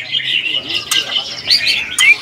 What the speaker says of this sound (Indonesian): ini ada yang namanya burung cucak cungko yang kelamin